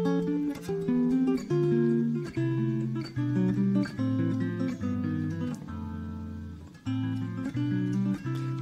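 Guitar plays spread triads with a chromatic approach moving the inner voice on the fourth string, giving a sequence of clear, ringing chords and plucked notes in a steady, unhurried rhythm with no talking.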